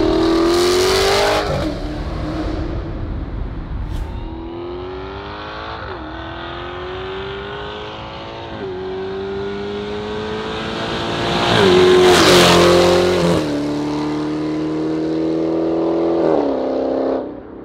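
A 717 hp Dodge Charger Hellcat with its exhaust flaps open revs and accelerates hard, its loud V8 climbing through gears with repeated rising sweeps and sharp bursts, close and dominant without talk.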